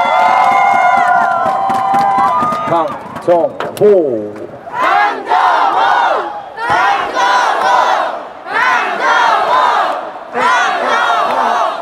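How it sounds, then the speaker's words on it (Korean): A baseball stadium crowd at a Nexen Heroes versus LG game cheers and shouts in loud repeated bursts after a player's back-to-back home runs, with an amplified voice calling out over the roar at the start. "강종선 선수가 큰 박수 부탁드립니다"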